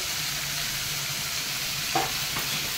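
Chopped ginger going into a pan of frying ghugni made with dried peas, giving a steady broadband sizzle with a couple of faint stirring scrapes near the end, close and continuous with no voices.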